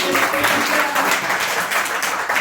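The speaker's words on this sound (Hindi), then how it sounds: "मैं एक बार तालियां बजाते हैं" An audience at a cybersecurity awareness presentation breaks into continuous, dense applause, loud and steady throughout.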